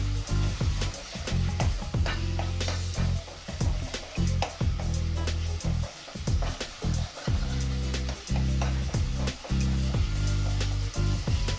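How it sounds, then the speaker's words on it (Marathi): Spice paste roasting in hot oil for bhajji aamti, a steady loud sizzle broken by repeated scraping stirs across the pan, with no talk over it. "थोड्या वेळ पेस्ट आपल्याला तेलामध्ये भाजून घ्यायची।"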